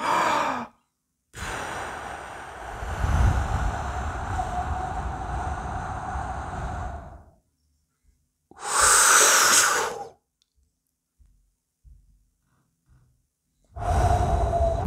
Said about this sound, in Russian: сидишь, вдыхаешь, выдыхаешь, короче, и нормализуешь дыхание.